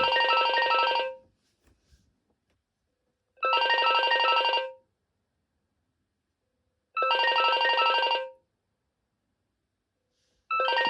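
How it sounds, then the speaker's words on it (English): Internal ringtone of a BT 6600 cordless phone, a bright electronic multi-tone trill played in three loud bursts about a second long, each separated by a few seconds of silence, with a fourth starting at the end. "I wish I could turn the volume down for the internal ringtone"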